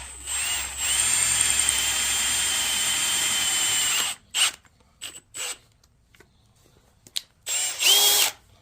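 Freehand drilling of a rivet hole in a curved forged iron candle holder, a loud, high, steady whine for about four seconds, then several short bursts and stops of the drill.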